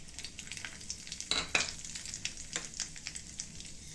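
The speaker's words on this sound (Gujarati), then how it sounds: "આપણે તેલ લઈ લીધું છે એની અંદર આપણે રાઈ જીરું" Mustard and cumin seeds sizzling in hot oil for a tempering, a quiet hiss with bursts of sharp crackling pops that flare and settle.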